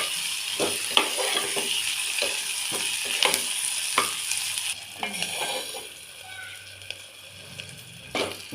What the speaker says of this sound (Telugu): కొత్తిమీర, ఉల్లిగడ్డ, పసుపు, అల్లం పేస్ట్ ఇలా కలుపుకోవాలండి.